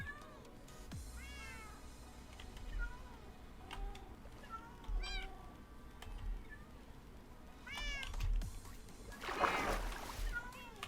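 Cats meow repeatedly in Minecraft, short rising calls scattered among game sounds with a splashy burst near the end, while a person talks quietly over it.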